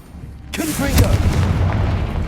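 A Confringo fire spell in the video game Hogwarts Legacy bursts with a sharp onset and then a sustained rumbling, crackling boom that stays loud to the end, with faint voice sounds mixed in.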